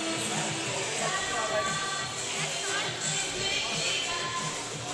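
Packed crowd at a university basketball semi-final between Melbourne and Sydney, a steady dense murmur of many voices with shuffling and scattered shouts filling the arena throughout.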